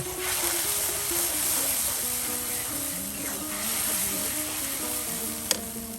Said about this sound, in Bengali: দেখুন সকল প্রকারের মশলা দিয়ে মরিচ দিয়ে এটাকে এখন বেশ মজানো কষানো হচ্ছে